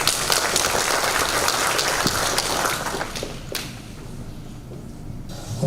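Applause from an audience at an education event fills the hall loudly and steadily, then thins and fades in the second half, with a few scattered claps lingering near the end.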